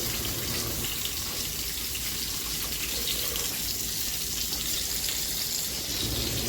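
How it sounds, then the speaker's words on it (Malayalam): Water is poured into a pan of koosa curry on the stove, a steady broadband hiss and splash like a running tap that continues evenly throughout with no talking. "ഇനി ഞാൻ ഇതിലേക്ക് കുറച്ച് വെള്ളം ഒഴിച്ച് കൊടുക്കുന്നുണ്ട്"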